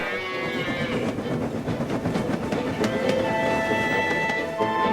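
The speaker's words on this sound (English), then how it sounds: "His cattle were having a dreadful time." Cattle moo in drawn-out, low calls over a rumbling, rattling background, several bellows overlapping.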